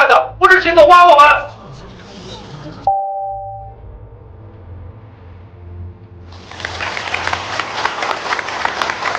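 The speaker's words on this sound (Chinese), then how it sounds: "紧接着响起了雷鸣般的掌声" Thunderous applause fills a packed hall, breaking out after a brief spoken voice and a short electronic tone, then swelling into a dense, sustained roar of clapping.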